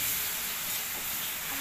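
An egg frying in a pan in a home kitchen gives a steady, close hiss and sizzle that runs unbroken through the whole moment.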